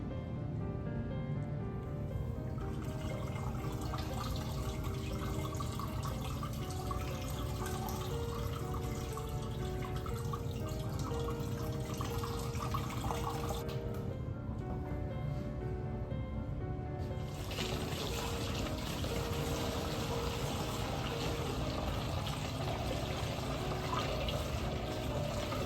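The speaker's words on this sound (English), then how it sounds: "let's see if we have any more drippings" Homemade wine dribbles through a strainer in a steady, close trickle of liquid that runs on without a break, with faint background hiss and no talking.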